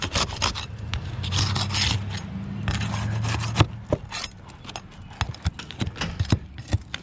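A painted asphalt roof shingle being pried loose, close-up scraping and grinding of a tool under the shingle followed by a sharp crack and a series of irregular knocks and taps.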